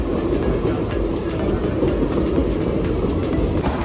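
A Mumbai local train passing a crowded platform, a loud continuous rumble of wheels and carriages with rhythmic clatter throughout.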